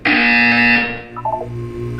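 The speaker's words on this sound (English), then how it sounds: "You will hear a buzzer." A loud, harsh electronic buzzer from Portal 2 blares steadily for most of a second, then drops away into quieter game tones and a low hum.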